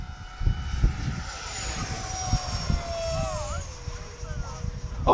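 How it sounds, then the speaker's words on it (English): A Freewing Gripen RC jet running a stock 1920kv motor on 8S with a Castle ESC, its high whine sweeping in pitch as the model flies past and climbs, steady and fairly loud over breezy outdoor background noise. "we've got the Gripen on 8S stock motor with a Castle ESC"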